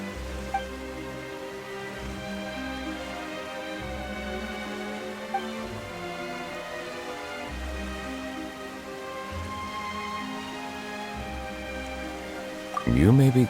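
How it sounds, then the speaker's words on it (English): Steady rain pattering on a surface throughout, with low rumbles underneath and a sudden louder burst at the very end. "Why is it raining all of a sudden?"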